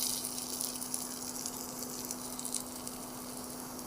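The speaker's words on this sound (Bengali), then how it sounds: "ওই তেলের মধ্যে আর একটু তেল দিচ্ছি, দিয়ে আমরা ওইটা ভাজতে দেবো।" Food frying in hot oil, a steady close sizzle with a constant low hum underneath and no pauses.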